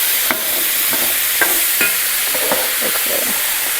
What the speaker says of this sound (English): I just want to mix them up a bit with the oil here and all of the juices, so they don't burn. You can see it's getting a sear on it already.